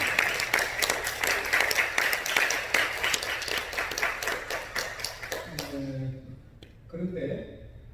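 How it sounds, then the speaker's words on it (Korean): A church congregation breaks into sustained applause for their pastor during a Sunday service, dense clapping that fills the room for about five seconds before fading, followed by someone speaking. "한번 담임 목사님께 큰 박수 해주십시오"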